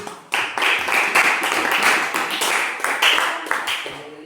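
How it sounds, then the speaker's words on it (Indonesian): A classroom of students bursts into steady, lively applause, many hands clapping close and dense for several seconds before tapering off. "Berikan aplaus untuk kita semua."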